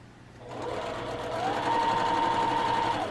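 A sewing machine runs steadily as quilt patches are chain pieced, giving a continuous close whirring drone that rises in pitch partway through, with no voices.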